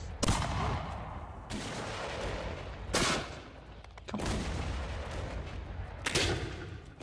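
Repeated cannon blasts from a Mount & Blade II: Bannerlord battle, four heavy booms spaced roughly a second to two apart, each trailing into a long rumbling decay over steady battlefield noise; one brief spoken remark.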